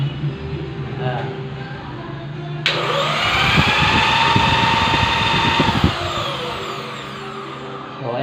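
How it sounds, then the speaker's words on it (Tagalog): A homemade electric fan built from a power drill spins up with a sudden rising motor whine that holds steady for a few seconds, then drops away, while someone talks nearby before and during it. "So, mayroon na tayo electric fan. Mahangin na guys."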